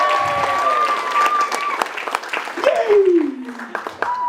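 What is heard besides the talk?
audience applause at magic stage show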